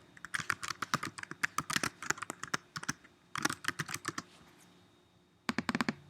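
Rapid computer keyboard typing as a book title is entered, bursts of crisp clicks in an uneven rhythm with a brief pause before a final flurry, close and clear with no talking.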